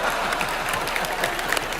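A studio audience at a comedy show claps steadily in a dense, even burst of applause, close and sustained for a couple of seconds.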